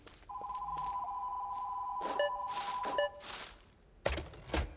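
A phone rings in a video game as a steady electronic tone, repeating a couple of times, with game clatter and thumps around it and no talk.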